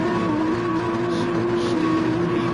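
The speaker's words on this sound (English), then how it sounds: "the lights are on, the revs are up" Gr3 race cars sit on the grid at Catalunya in a sim racing event, their engines held at high, steady revs for the start, a dense continuous drone with no gaps.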